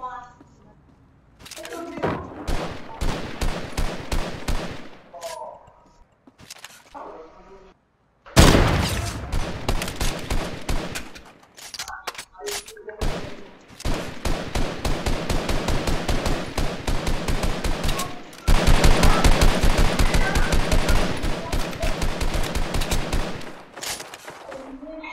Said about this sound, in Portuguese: Tá atirando em quem? Nos caras de lá?